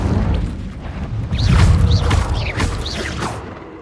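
A fire spell cast in the video game Hogwarts Legacy on PS5: a swelling whooshing burst with a booming low rumble, repeated crackling sweeps and bright flaring streaks over about four seconds, loud and close, with no talking.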